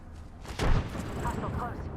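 A frag grenade goes off in a ranked Apex Legends match: a sudden loud booming blast about halfway in, followed by sustained rumbling battle noise with voices over it.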